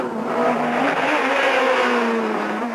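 A front-wheel-drive French Kit-Car rally car's engine roars steadily at high revs while driving hard, a loud, sustained mechanical drone close by.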